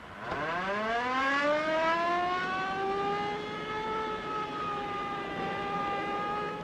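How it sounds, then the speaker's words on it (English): A 1938 car siren winds up from low to a high wailing pitch and holds there, loud and steady, with no voices. "Step on that siren"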